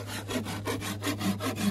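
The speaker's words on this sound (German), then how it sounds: "Der erste Ast wird gesägt." A handsaw cutting through a tree branch outdoors in the Brandenburg woods, about eight quick rasping back-and-forth strokes in steady rhythm, close and clear with a low hum underneath.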